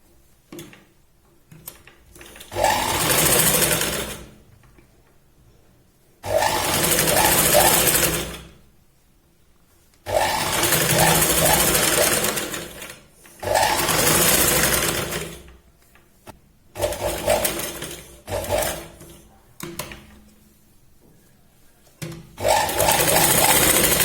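A sewing machine stitches the hook strip edge of a katori blouse, running in several loud, steady bursts of a few seconds each, separated by short pauses with no voices.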